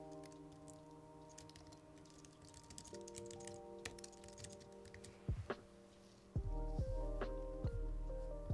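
Quiet, irregular tapping of keys on a computer keyboard over a low steady hum, with a few louder clunks and a rising tonal drone near the end.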